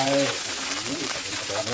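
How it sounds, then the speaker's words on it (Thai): Thai curry paste frying in hot oil in a pan: a short burst of crackling sizzle with stirring, while someone speaks over it. "ใส่น้ำมัน ตั้ง กระทะนี่ใส่พริกแกงลงไป"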